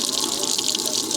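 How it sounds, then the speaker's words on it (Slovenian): Water pouring steadily from a public water source in a forest village, a continuous close splashing gush without pause. "Tukaj je tudi en super vodni vir"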